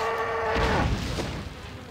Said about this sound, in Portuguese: Aí tem uma vaca infectada aqui.